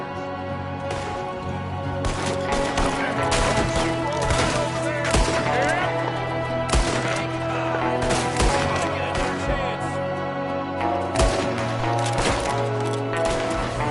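Rapid gunfire crackles through a Red Dead Redemption 2 shootout, with shots aimed from a window, sharp cracks repeating in uneven bursts over a dense, loud game soundtrack without pause.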